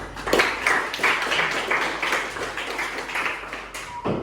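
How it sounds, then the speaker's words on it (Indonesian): High school students in a Jakarta religious-education class clap for a classmate, a brief, fairly close burst of scattered hand claps that stays steady for a few seconds before stopping. "Beri tepuk tangan untuk dia"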